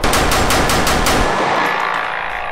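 A handgun fires a rapid string of about eight sharp, loud shots in quick succession at a trick shooting session, followed by a fading echo.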